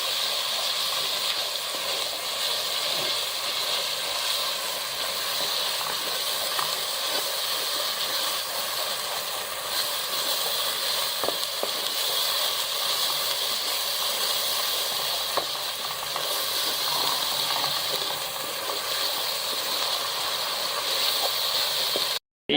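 Spice masala sizzling in hot oil in a pan for a Noakhali-style taro leaf curry, a steady loud hiss and crackle running unbroken for the whole stretch with no talk.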